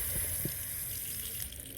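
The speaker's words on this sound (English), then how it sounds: "the next bit we are going to do is to pour off this water" Water poured off soaked vegetable seeds, a steady close gush of liquid running through the whole stretch with a couple of brief splashy spurts near the start, easing slightly at the end.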